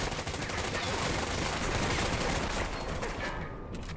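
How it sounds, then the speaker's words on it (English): Dense, continuous bursts of rapid automatic gunfire in the Medal of Honor: Vanguard war game, loud and close, with overlapping shots filling the whole stretch. "Am I getting shot from more than one direction?"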